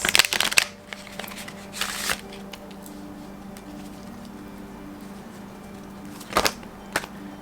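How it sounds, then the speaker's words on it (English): A deck of fortune-telling cards is shuffled in a few short riffle bursts, near and crisp, separated by quiet stretches with a low hum in the background. "let's close it off with Madame Endora's fortune-telling cards"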